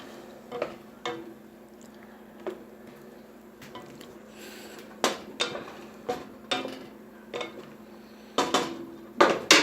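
A metal spoon clinks and scrapes against a pot of boiling lemons for a lemon and honey drink, giving about a dozen sharp knocks at irregular intervals, with a few clustered hits near the end over a low steady simmer.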